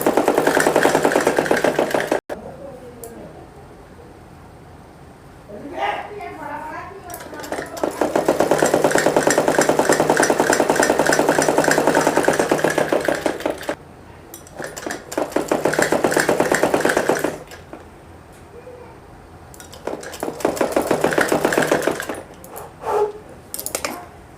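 Sewing machine running in repeated bursts while stitching a thick suit seam, loud mechanical whirring in several long runs separated by short pauses, with a brief voice between stitches.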